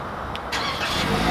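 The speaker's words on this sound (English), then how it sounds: "it starts up and you can hear that 2 liter four-cylinder come to life" A 2020 Toyota Corolla Nightshade hatchback's 2.0-liter four-cylinder cranks and catches via remote start, a brief starter whirr rising into a steady idle nearby.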